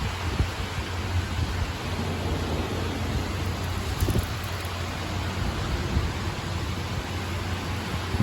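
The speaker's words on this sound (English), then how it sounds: "That rain is heavy though." Steady, heavy downpour during an August 2020 tornado storm in Ottawa, with a dense wash of noise and a low rumble beneath, continuous throughout with no voices.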